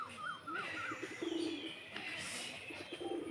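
Pigeons coo and other birds call in short, repeated bursts at a zoo in Sreemangal, with a steady hum of open-air background noise underneath.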